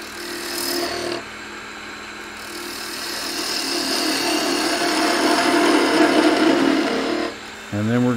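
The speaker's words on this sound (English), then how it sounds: "We'll just take some slicing cuts right in there." Wood lathe spinning a wine bottle blank while a turning tool takes slicing cuts, a close, loud rising whir and scraping chatter with a steady motor hum, briefly easing then resuming near the end.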